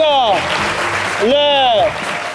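A crowd in Côte d'Ivoire applauds, a steady hiss of clapping under loud, rising shouted voices that sweep up and down over it.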